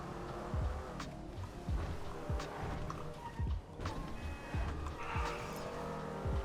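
Car driving in Grand Theft Auto 5: a steady, loud engine drone with low thumps and occasional brief tire skids, continuous through the whole stretch.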